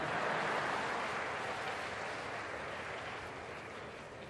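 Broad, sustained applause from a gathered audience, a dense wash of clapping that starts loud and slowly tapers over a few seconds, with no talking on top.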